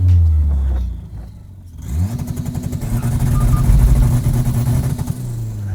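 A home-built turbocharged Toyota Celica engine held on factory two-step launch control: a loud idle drops away, then a rapid, evenly stuttering burble of popping combustion holds for several seconds.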